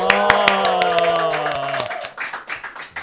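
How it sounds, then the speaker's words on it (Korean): Studio audience on a Korean media talk show claps and cheers, sharp repeated claps under a sustained tonal musical or vocal sound that cuts off, then scattered softer claps continue alone. "환호성 부탁드립니다."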